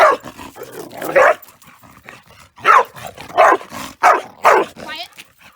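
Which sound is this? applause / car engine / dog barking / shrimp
dog barking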